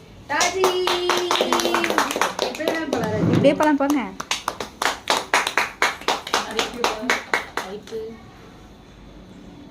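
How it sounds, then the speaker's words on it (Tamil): A small group at a clinic's Pongal celebration claps in a run of sharp, separate handclaps following spoken and sung voices, the clapping close and uneven before fading out. "கைத்தட்டுங்க."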